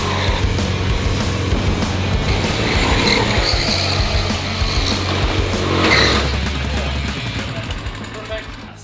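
A race car roars past on a track with tyres squealing and engine noise swelling loudly then fading, continuous throughout with voices faintly underneath.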